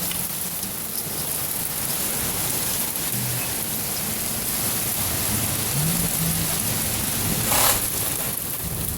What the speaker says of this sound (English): Holy buckets of rain.